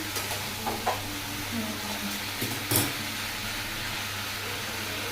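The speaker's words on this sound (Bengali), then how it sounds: "ভালো করে নাড়ছি আমি এখন, দেখতে পাচ্ছি।" Food is stirred in a kadai (wok) that has started sticking, giving a steady sizzle with scattered scraping clatters of a spoon against the metal, close and fairly loud.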